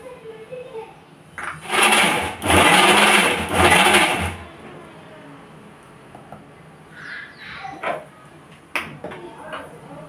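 Mixer grinder blending peanuts and sugar into peanut butter, running in a loud close whirring burst of about three seconds with brief pauses, followed by quieter handling noises and a person talking.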